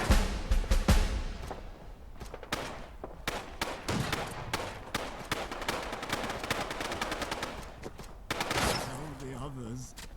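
Gunfire in the video game Fallout London crackles in rapid bursts of shots, machine-gun-like volleys mixed with single reports, fairly loud and sustained, with a brief voice near the end.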